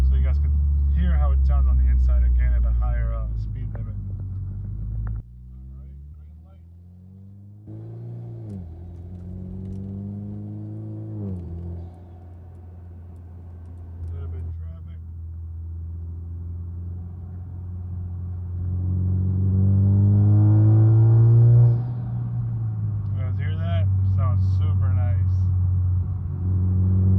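Loud aftermarket exhaust on a Honda Accord 2.0, heard from inside the cabin while driving at a higher speed limit: a deep droning rumble that swells as the car accelerates, then eases off, with a person talking over it.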